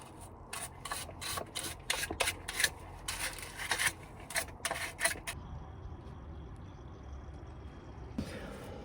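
Rapid rhythmic scrubbing on a sailboat's removed bilge pump, a steady run of harsh brushing strokes for several seconds, then a quieter hiss and one final burst of scrubbing.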